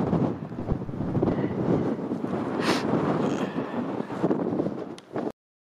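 Steady, blustery wind buffeting the microphone, a broad continuous roar with gusty swells, then abruptly cutting out near the end.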